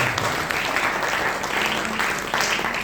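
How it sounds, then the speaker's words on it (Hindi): Loud applause from the audience at an Arya Samaj gathering, dense steady clapping from many hands throughout with slight swells in intensity. "उनके लिए एक बार जोरदार तालियां बजा दीजिए।"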